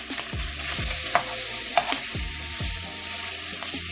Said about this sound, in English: let's go ahead and add our sausages. I'm going to brown these,